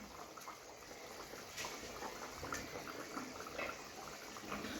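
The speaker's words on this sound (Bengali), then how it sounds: "মাছের ঝোল এখানে ভালো করে ফুটে গেছে।" Fish curry bubbling steadily in a covered pot, a soft continuous simmer with faint liquid churning, close and quiet, no voices.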